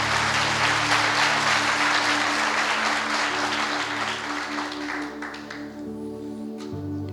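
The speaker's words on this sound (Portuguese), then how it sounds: "Vamos aplaudir o Senhor?" A church congregation applauding, broad sustained clapping from many hands that holds steady before thinning out near the end, with a low hum underneath.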